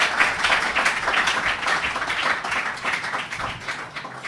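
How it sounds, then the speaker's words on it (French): Sustained audience applause at a formal ceremony, many hands clapping in a dense, steady wash for several seconds with no voices on top. "Boanerge Kaseke, que je vous prie d'applaudir, s'il vous plaît."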